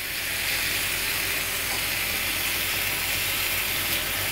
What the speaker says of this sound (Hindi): इसको आप इसमें ऑयल में हल्का हल्का सा फ्राई कर लें।